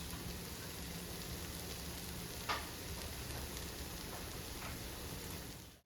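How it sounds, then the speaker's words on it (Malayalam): Coconut oil drizzled over a hot jackfruit seed and prawn stir-fry, producing a steady, dense sizzle and crackle that holds evenly throughout, with one brief louder spit near the middle. "ഇതിന്റെ പുറമെ ഇച്ചിരി വെളിച്ചെണ്ണ ഒഴിച്ചു കൊടുക്കാം"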